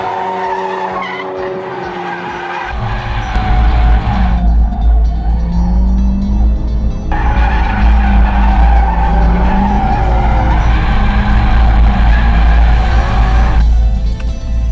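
A 2016 Ford Focus RS drifts in a power slide, tires skidding and squealing in long continuous screeches over a loud, steady engine roar, close and sustained throughout.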